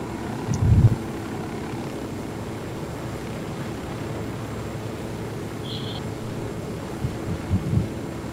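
A helicopter flies in the video game Ghost Recon Wildlands, giving off a steady, droning engine hum. A couple of soft, low thumps stand out near the start and end.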